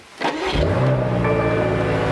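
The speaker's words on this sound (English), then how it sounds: "Now, turning the car on, listen to this thing." A BMW M8 Competition engine cranks and fires up, settling into a loud, steady, throaty idle with a deep rumble close by.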